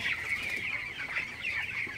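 A flock of broiler chickens in a shed, about 21 days old, keeps up a continuous chorus of soft cheeping and clucking, steady and moderately loud, with no voices.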